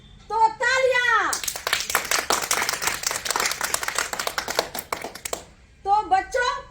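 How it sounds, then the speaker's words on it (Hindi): A group of children clapping hands together in sustained applause at a January 26 school gathering, crisp and fairly close, bracketed by an adult voice talking before and after. "तो तालियां"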